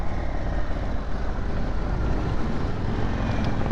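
A 2022 Indian Chief Bobber Dark Horse motorcycle downshifting on a ride in Orange County: a loud, steady, close engine rumble mixed with rushing wind, continuous throughout with no talking.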